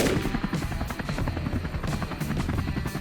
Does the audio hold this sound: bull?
no